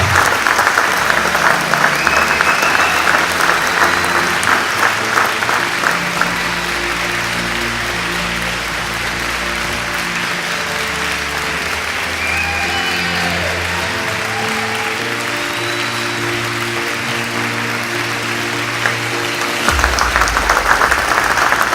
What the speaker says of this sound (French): Et on applaudit notre junior.